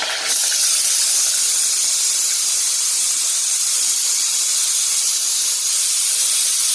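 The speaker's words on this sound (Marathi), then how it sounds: "आता हिंग घालत आहोत त्याच्यावर, हिरव्या मिरच्या आणि कढीपत्ता" Asafoetida, green chillies and curry leaves hitting hot oil give a loud, steady, hissing sizzle that starts abruptly and holds evenly to the end, with no voices.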